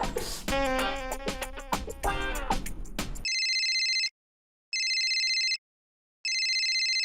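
A telephone rings in two electronic bursts separated by short silences, right after someone speaks.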